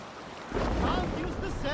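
A Viking sailing ship in Assassin's Creed Valhalla surges forward as a rush of wind and breaking waves swells in suddenly after a brief quiet moment and carries on loudly.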